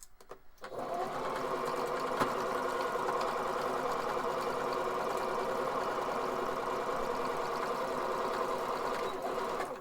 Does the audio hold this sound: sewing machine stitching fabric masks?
yes